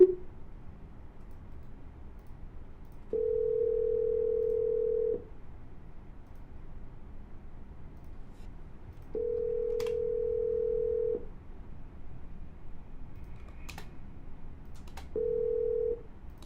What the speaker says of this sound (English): I'm gonna double dial.